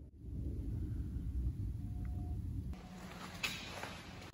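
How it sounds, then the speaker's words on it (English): Wind howls and rumbles outside a sailboat hull in a steady, loud low roar that fills the whole clip, with no talking. "Listen to that wind howling outside."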